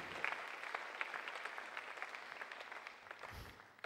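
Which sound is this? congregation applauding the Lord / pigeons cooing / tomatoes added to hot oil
congregation applauding the Lord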